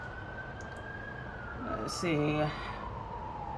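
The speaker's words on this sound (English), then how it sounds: "just ignore that siren in the background" A police-type siren wails steadily in the distance, rising and falling behind a quiet indoor room while a person says a few words close by.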